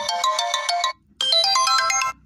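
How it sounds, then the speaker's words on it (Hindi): An Imo app ringtone plays loudly from a phone as a bright, repeating electronic melody, cutting out for a brief pause before starting again, with no talking. "आपके ईमो पे जब भी कॉल आएगा तो यही सब बजेगा"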